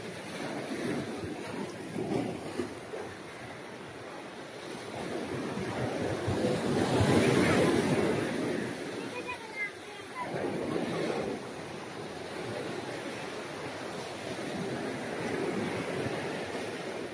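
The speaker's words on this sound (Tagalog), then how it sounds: "Nabasa ako, lakas ng alon doon." Strong ocean surf rolls and crashes in repeated swells with heavy wind buffeting the microphone, peaking loudly midway, with faint voices in the background, at Caramoan Island, Philippines.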